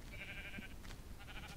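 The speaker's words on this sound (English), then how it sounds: "Hey, it's a sheep!" Sheep bleating in the Minecraft video game, a short wavering bleat followed by fainter breathy bursts, quiet and alone with no talk.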